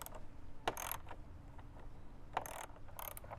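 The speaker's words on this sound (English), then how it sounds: "So it's an 8mm socket to get these screws out" An 8mm ratcheting socket clicks as it backs screws out of a Can-Am Ryker, giving short bursts of close mechanical ratchet clicks separated by pauses, quiet and without speech.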